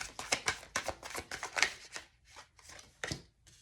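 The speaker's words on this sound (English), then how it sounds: "we are going to look now, bring in the angel cards" Angel cards are shuffled and handled in a quick run of crisp flicks and soft slaps, close by, loudest at first and then thinning out into a few scattered snaps.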